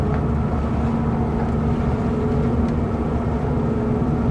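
A 2024 Formula 290 BR boat with twin Ilmor engines idles while rotating in place under joystick control, producing a steady low engine drone and wash sound with no change in level.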